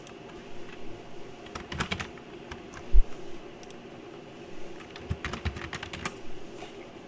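Keys clatter on a computer keyboard while text is typed into a shirt design program, coming in scattered bursts of clicks with short pauses between them and one sharper thump.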